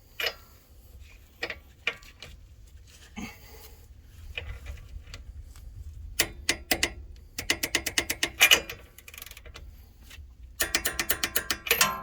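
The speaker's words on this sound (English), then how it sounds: "Now let's do 41 foot-pounds on this one." Torque wrench ratcheting on a bolt while tightening a 2006 Ford Explorer front upper control arm, sparse clicks at first, then quick bursts of close, sharp ratchet clicks in steady rhythm, with no talking.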